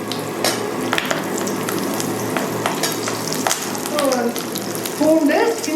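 Dried red chillies, green chillies and ginger fry in a pan for a Tamil pirandai thuvaiyal, giving a steady close sizzle with light stirring scrapes and a few brief tonal clinks toward the end.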